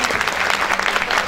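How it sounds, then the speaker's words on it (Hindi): A seminar audience at a business event bursts into brisk applause, dense and steady clapping throughout the short moment. "एक बार जोरदार तालियां"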